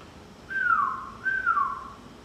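Two rising-then-falling whistles of equal length imitate the tempo of a golf putting stroke, the backswing and the forward stroke, sounding clear and close with a short pause between them.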